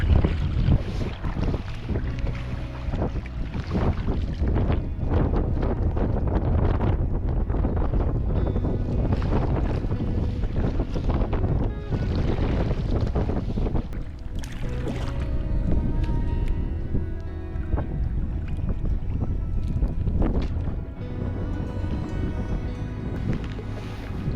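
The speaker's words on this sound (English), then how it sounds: "First time we got some wind in our face here, and some interesting current right here." Wind buffeting and moving river water around a canoe on the Yukon River near the Takhini confluence, a steady loud rushing roar with gusty microphone wind throughout.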